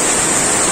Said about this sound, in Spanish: Bajamos unos metritos más y encontramos nuevamente 2 cascadas altas, de configuración regular.